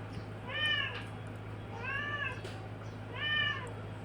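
A cat meows three times in drawn-out, rising-falling cries spaced about a second apart, fairly close, over a steady low electrical hum and room noise.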